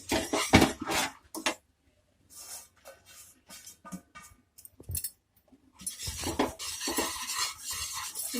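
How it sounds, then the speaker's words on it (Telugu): Flour is stirred into hot sugar syrup for Mysore pak, with close scraping and clinking of a utensil against the pot in irregular bursts separated by quiet gaps. "ఉండలు లేకుండా మొత్తం బాగా కలుపుకోవాలి."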